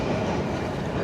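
A train rolls along rails in Milan, a steady, close rumble with faint rhythmic clatter from the wheels and no one talking.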